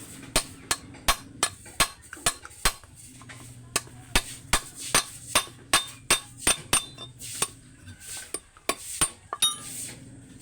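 A steel pipe end being hammered into a metal hammer head, a steady series of sharp ringing metallic strikes, close and loud, with a few lighter taps and a brief pause partway.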